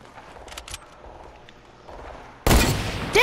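Gunfire in the video game Fortnite, faint scattered shots early on, then a loud, sudden close burst near the end followed by another sharp hit.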